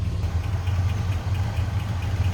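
A steady, low, throbbing rumble of a 305 V8 engine idling nearby in a 1982 Chevrolet K10 Silverado, even and continuous throughout.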